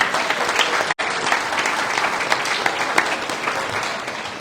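A crowd at a community celebration gives a sustained round of applause for local organizations, thick continuous clapping with a brief dropout near the start, otherwise even and loud throughout.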